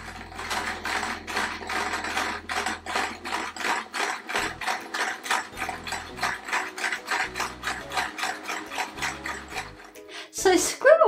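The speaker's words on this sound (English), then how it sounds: "It is time for me to stitch around his body and all of his pieces using a running stitch with the sewing machine." A sewing machine runs a running stitch around a patchwork quilt applique in regular mechanical bursts, a rhythmic clicking whir that stops and restarts near the end.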